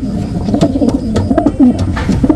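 Close, soft pigeon cooing, a series of low throaty coos with light rustling and taps around them.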